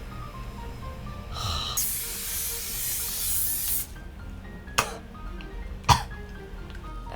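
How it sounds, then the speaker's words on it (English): Hairspray hisses from an aerosol can onto 1980s-style hair in one steady two-second burst. Quieter rustling follows, and two sharp clicks come near the end. "My lap is full of dried hairspray flakes."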